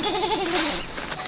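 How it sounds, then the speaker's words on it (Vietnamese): A goat gives a single wavering bleat, close and clear, lasting about a second. "coi có một con dê cũng đang ra ngoài rồi."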